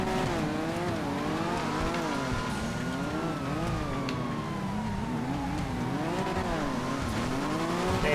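Cars racing and overtaking on a track in GTA V FiveM, engines droning loudly and continuously with wavering, rising and falling pitch as several cars run close together, and faint tire squeal.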